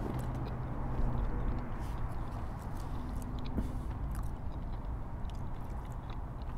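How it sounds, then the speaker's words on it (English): Someone chews a hot dog close to the mic, with moist, squishy mastication and soft biting noises running continuously over a busy outdoor background. "You gotta make sure you chew your food."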